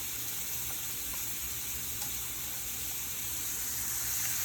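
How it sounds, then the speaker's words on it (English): Steak frying in a pan for a Portuguese bitoque dinner gives a steady, dense sizzle with constant hiss and crackle throughout, close and even, with no talking. "all we're gonna do is make sure we wait for that steak to cook all the way through."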